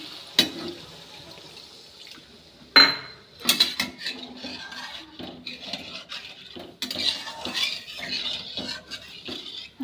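Bowl of water poured into a pan of cooked-down spices for a pangas fish curry, with metal utensil clinks and clatter, a splash and sizzle, close and fairly loud, no talking.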